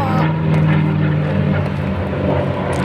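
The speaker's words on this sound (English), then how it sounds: "Yeah, we got a P-51 Mustang right there." P-51 Mustang propeller warplane passing overhead at an air show, a loud, continuous droning engine roar with a steady low hum and no voices.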